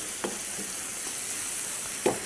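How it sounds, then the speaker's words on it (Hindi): Minced meat with spices frying gently in a pan for keema saag, a steady hiss with a few soft stirring scrapes, close and with no talk. "मसाले डालने के बाद इसको हल्का हल्का भूनेंगे"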